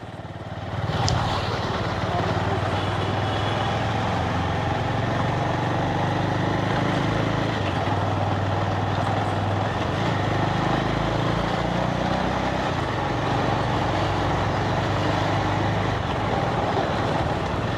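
A car engine strains steadily uphill on a steep incline in Mumbai, a continuous loud low drone with road rumble throughout, no talking.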